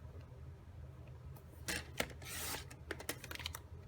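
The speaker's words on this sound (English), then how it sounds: "So grab your trimmer and we're going to whack off that measurement." A paper trimmer slicing cardstock for a Stampin' Up! Paper Pumpkin project, heard as a few short scraping cuts over a soft low hum, close and fairly quiet, with no talk.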